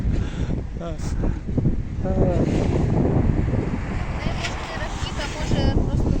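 Wind buffets the microphone in a steady rough rumble throughout, with people talking over it.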